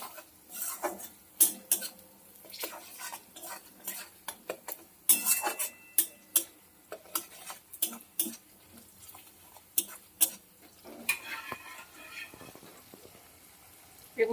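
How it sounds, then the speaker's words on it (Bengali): A spoon stirs sugar in a pot while dal paneer is cooked, giving a run of sharp metallic clinks and scrapes in irregular bursts, moderately loud and close, with no voices. "ভালো করে নাড়াচাড়া করে চিনিটাকে গলিয়ে নেবো"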